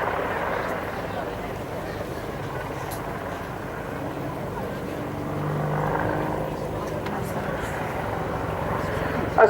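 Apache attack helicopter passing across the front of a crowd at a display, a steady rotor and turbine roar swelling slightly mid-pass, with an announcer talking over it.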